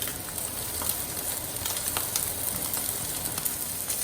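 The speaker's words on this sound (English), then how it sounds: "And what you're hearing is exactly what you want to hear, a nice crackle." A steak sears in hot ghee in a pan, with a close, constant sizzle and sharp intermittent crackles and pops over the whole stretch, with no voices.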